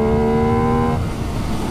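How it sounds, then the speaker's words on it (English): A 2021 MV Agusta Dragster 800RR motorcycle with a quick shifter holds a loud, steady engine note that cuts off abruptly midway, leaving a rough, lower rumble close by. "it sounds so good when you're on the quick shifter blipper"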